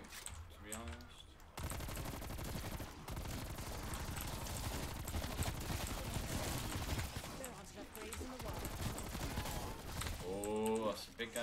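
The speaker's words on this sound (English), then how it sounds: "that's a big guy shooting me" Enemy gunfire in Call of Duty Cold War Zombies hammers away in a dense, continuous burst of rapid shots for most of the stretch, with a player's voice briefly at the start and end.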